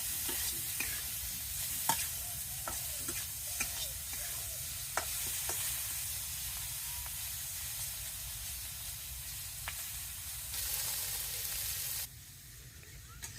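Bitter gourd (karela) frying in a pan makes a continuous close sizzle with scattered sharp crackles and scrapes, then dies down abruptly near the end.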